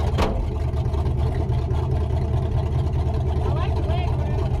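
A 1930 Ford Model A coupe rat rod engine runs steadily and close, a constant low rumble throughout with a voice briefly over it.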